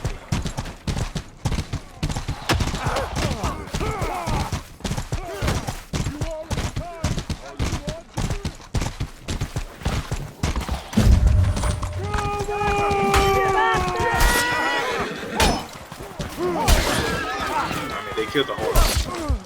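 Hooves of a horse in the medieval combat game Mordhau clatter in a fast, dense clip-clop rhythm, with clashing noise and a player talking over the galloping.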